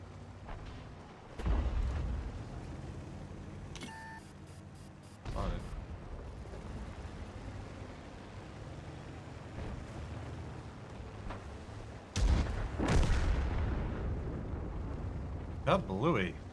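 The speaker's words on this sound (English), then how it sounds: "Kablooey." Video game tank combat in the Type 63 light tank, heavy booming cannon shots and explosions with rumbling low end, a few loud blasts spaced across a constant engine drone, with someone speaking over it.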